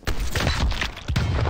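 Dense, continuous gunfire from the Black Ops Cold War multiplayer shooter, loud and close, packed with rapid booming shots over its short length, with no talking.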